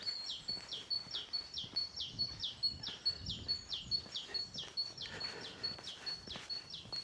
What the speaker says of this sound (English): a variation on teacher, teacher, teacher, teacher, teacher, teacher, it'll be a great tit